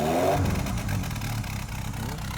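An old car with a Pinto engine starts and revs, giving a loud mechanical clatter that settles into a steady, rough running note.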